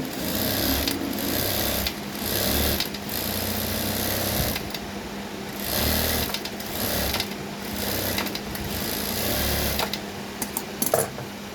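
A sewing machine stitches the neckline of a lined kameez, running in steady loud bursts separated by short pauses, with no talking.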